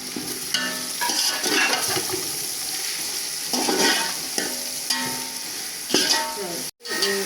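Masala being stirred and fried for beef pulao, a steady sizzle broken by repeated scraping stirs, with a brief drop to silence near the end.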